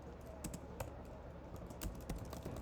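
A computer keyboard being typed on while writing code, with faint, irregular bursts of soft key clicks spread across a quiet room.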